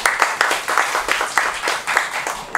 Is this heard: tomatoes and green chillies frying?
no